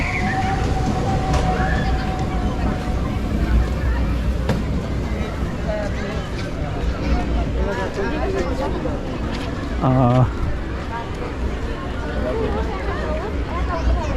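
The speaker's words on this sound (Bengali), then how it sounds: "এটা হচ্ছে ট্রেন" A children's park ride train runs at Shahid Zia Shishu Park in Rajshahi, its low rumble under busy crowd babble and voices, with a brief tonal horn-like blast near the end.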